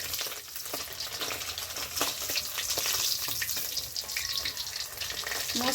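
Fish frying crisply in a pan, a dense continuous crackling sizzle with occasional spatula scrapes, close and fairly loud throughout, with no talking.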